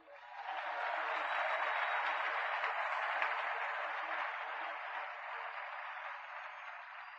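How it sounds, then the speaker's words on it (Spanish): Audience applause at a question-and-answer session, a faint, steady wash of clapping that swells in quickly, holds for several seconds and slowly tapers off. "¿Cuántos aplauden eso?"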